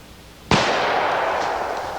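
A single loud gunshot from a .460 cartridge firearm cracks sharply after a quiet lead-in, followed by a long rolling echo that slowly fades.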